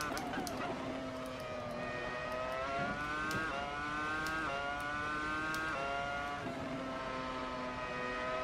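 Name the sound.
Williams FW26 F1 car engine racing in Assetto Corsa video game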